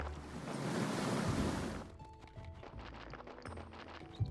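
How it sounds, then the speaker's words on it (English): A waterfall in the Graveyard Keeper video game gives a steady, full rushing roar for about two seconds. It then drops away to quieter, sparser ambience with faint clicks. "Waterfall."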